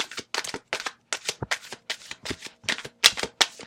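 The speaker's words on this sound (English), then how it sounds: "Let me shuffle, actually." Tarot cards shuffled in quick repeated riffles and bursts, close and crisp, about a dozen rapid rustling strokes with short gaps between them, no voices.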